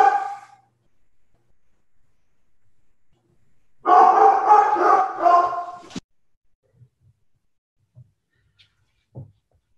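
Several dogs bark in a loud, close burst of overlapping yaps lasting about two seconds, preceded by a short bark and followed by faint thumps in near silence.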